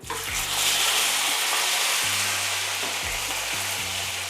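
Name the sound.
jalapeno chicken pieces frying in hot grease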